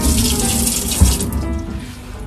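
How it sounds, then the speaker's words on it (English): Tap water runs steadily into a kitchen sink while a bell pepper is washed and its seeds rinsed out, a close continuous splashing hiss with a small spatter midway. "Wash it and remove the seeds at the same time."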